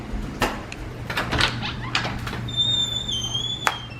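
A door squeaks from just outside a bedroom, thin rising whines drawn out over a couple of seconds amid soft knocks and shuffling, fairly close and quiet.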